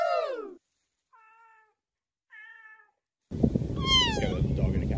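A cat meows several times: one long, loud call at the start, then two shorter, softer meows spaced apart, and a final drawn-out meow over a burst of loud background noise.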